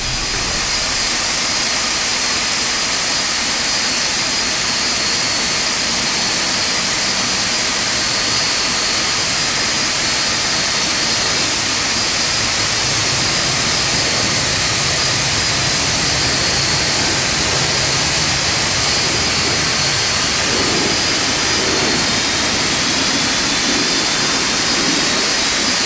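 Boeing 747-200 jet engines spooling up during start in the X-Plane 11 flight simulator, a loud steady broadband roar and whine that holds for the whole stretch with no talk.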